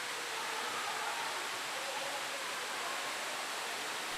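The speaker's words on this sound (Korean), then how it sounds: "타원형의 둥근 현무암 절벽으로 둘러싸인 소와 높이 18m의 폭포가 어우러진 제인 폭포는 연천 제1경으로 알려져 있는 명소입니다" Steady broadband rush of the 18 m Jaein waterfall plunging into a pool ringed by basalt cliffs, a continuous even roar with no voices.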